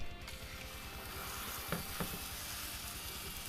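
Seasoned pork loin sears in a hot skillet with a loud, dense sizzle throughout, broken by a couple of brief scraping or handling noises near the middle.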